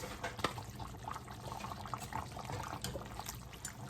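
A cornstarch and water slurry is poured into simmering gravy for Jamaican brown stewed chicken, giving a soft, close liquid trickle with faint bubbling and small splashes that run on continuously.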